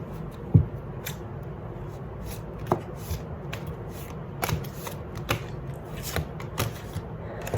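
Tarot explanation cards being pulled from a deck and handled, a series of soft close flicks and paper slides spaced irregularly over a quiet background, with no speech.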